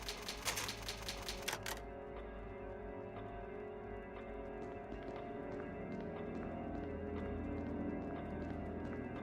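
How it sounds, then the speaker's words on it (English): Rapid mechanical clacking of the typewriter save sound in the video game Resident Evil bursts for under two seconds, then gives way to quieter ambient game tones and scattered soft footsteps. "Oh, those typewriter sounds."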